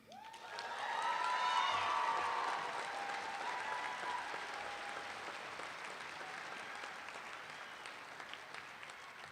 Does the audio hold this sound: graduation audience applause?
yes